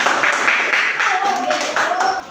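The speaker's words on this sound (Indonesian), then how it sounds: "tepuk tangan untuk kalian semua" Classroom clapping for students, a short burst of many hands clapping together in an indoor room, with a voice speaking over part of it.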